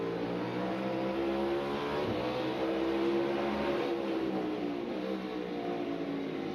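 A NASCAR stock car at Martinsville revs hard on board, its engine a continuous loud drone with rising and falling pitch as gears shift through the corner, no voices present.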